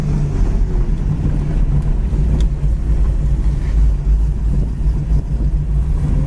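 A 1980 Camaro Z28 cruising on the road, its engine a steady low rumble beneath constant wind and road noise, heard from inside the car.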